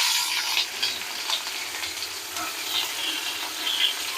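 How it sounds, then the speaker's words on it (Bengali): Chopped onion hits hot mustard oil in a pan, giving a steady, close, hissing sizzle that holds evenly throughout with faint crackles and no voices. "তেল গরম হয়ে গেছে ছেড়ে দিচ্ছি পেঁয়াজ কুচি"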